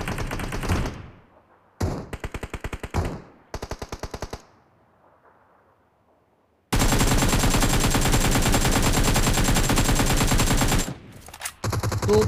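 Automatic AKM rifle fire from PUBG Mobile rattles out in several short bursts separated by silence, then one long sustained stream of rapid shots before a final brief burst, loud and close.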